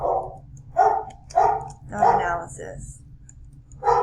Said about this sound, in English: And that is my dog in the background, and that will be continuous.